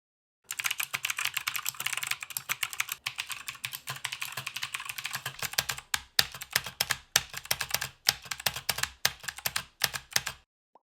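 Keys clacking on a Keychron K2 mechanical wireless keyboard, a fast run of crisp, close clicks in uneven bursts with brief pauses, no voices.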